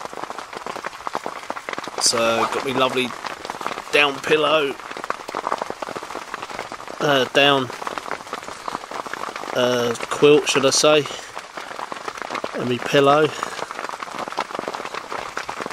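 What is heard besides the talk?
rain falling on rooftop tent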